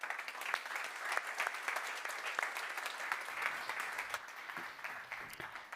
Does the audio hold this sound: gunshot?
no